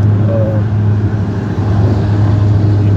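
Steady interior drone of a car being driven, a loud continuous low rumble and road hum filling the cabin without pause, with no distinct passing vehicles or revving.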